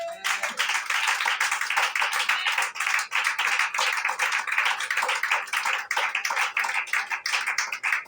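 A church congregation claps together in acclaim, a dense, steady patter of many hands that runs loud and continuous throughout with no talk over it.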